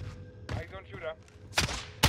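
Gunfire in the shooter game Warzone: a few sharp, loud shots and bursts in quick succession with people talking between them.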